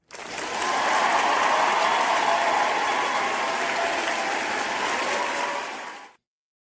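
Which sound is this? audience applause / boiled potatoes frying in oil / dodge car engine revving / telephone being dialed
audience applause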